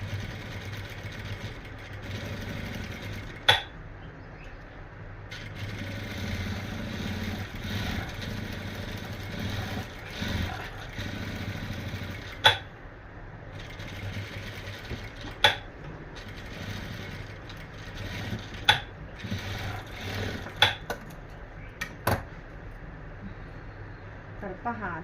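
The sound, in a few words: sewing machine stitching cord piping onto a blouse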